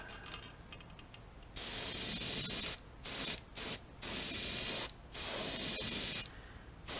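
An airbrush sprays opaque paint onto a topwater Spook fishing lure in a bluegill pattern, a steady close hiss in several bursts separated by short breaks, with no talk.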